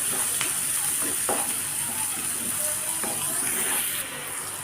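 Red poha upma being stirred in a pan, giving a steady close-up sizzle with faint hiss and occasional scraping taps of the spoon throughout.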